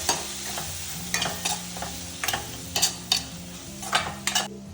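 Curry base stirred in a pan after Kashmiri chili powder and turmeric go in, a steady sizzle broken by several sharp scraping strokes of a spoon against the pan, over a low continuous hum.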